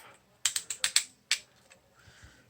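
An Exacto utility knife is handled in a series of about six sharp clicks, five in quick succession and then one more a moment later. A softer shuffle follows, close and fairly quiet.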